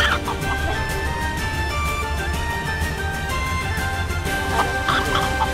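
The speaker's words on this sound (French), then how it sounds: "on aura des chèvres et des poules sur le bateau" Chickens clucking aboard a boat being used as a film set, a steady stream of close clucks over constant background noise, with no talking.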